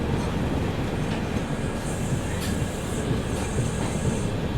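The Agartala Tejas Rajdhani Express pulls out of a station after a two-minute stop, with a continuous close rumble of rolling wagons, soft clickety-clack and brief metallic wheel squeals, and no talk.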